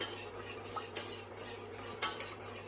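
A utensil scrapes and taps against a pan while a cheese sauce of flour, milk and butter is stirred, with a few sharp clinks over a quiet, steady background.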